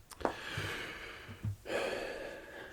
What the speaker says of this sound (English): That's an area where I'm breathing very heavily.